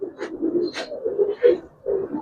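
A female Giribaz pigeon, a silver khaki coloured bird, coos in a series of soft, low, throaty calls in quick succession, close and clear with no talking.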